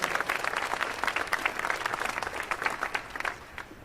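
Audience applause at an arena event for two business executives, lively dense clapping with distinct sharp claps standing out, fairly close and loud, tapering slightly at the end.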